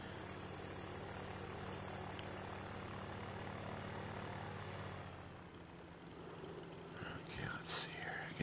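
A propeller airplane flies in the VR game Ultrawings 2: a steady, close engine drone that drops and thins partway through as the throttle eases, then shifts to quieter cockpit sounds and clicks.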